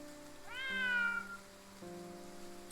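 A cat meows once in the rain in the video game Triangle Strategy, a single drawn-out meow over quiet game music with a soft rain backdrop, no talking.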